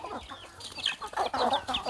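Several young roosters cluck and chatter close by in short, uneven bursts, a busy flock sound with no other voices.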